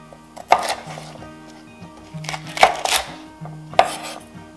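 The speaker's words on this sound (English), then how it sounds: "Your chopping doesn't need to be perfect because we're just gonna puree" Three bursts of sharp knife chops on a cutting board as celery is cut, each a quick cluster of strokes, with a low steady hum in the background between them.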